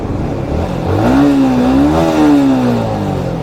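A Yamaha MT-15 motorcycle engine is revved once close by, a loud tone climbing from idle, holding, then easing back down over about two seconds, with no talk.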